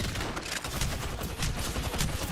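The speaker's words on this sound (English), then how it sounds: "Shooting, shooting, shooting, shooting," Sustained automatic gunfire from an Apex Legends pro league match, dense overlapping bursts filling the whole stretch at steady loudness with no clear pauses, busy and close.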